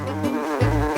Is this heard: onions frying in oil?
no